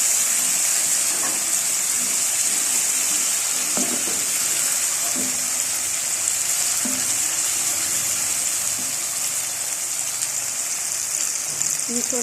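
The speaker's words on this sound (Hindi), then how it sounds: "ये थोड़ा सा फ्राई हो जाए" Ginger and green chillies frying in a pan for a spinach, potato and chicken dish: a steady, dense hiss and sizzle that holds unbroken throughout, with faint clinks beneath.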